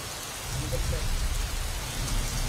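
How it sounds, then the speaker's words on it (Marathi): Heavy monsoon rain pours steadily on surfaces in Guhagar, Ratnagiri, on the Konkan coast, a dense continuous hiss with a strong low rumble throughout. "रत्नागिरी, गुहागरमध्ये मागील तासाभरात पावसाचा कहर बघायला मिळालाय"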